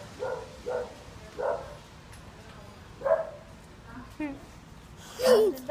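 A dog gives a series of short barks and yips, three evenly spaced near the start and more scattered later, with a louder cry near the end, while people talk and a voice imitates barking.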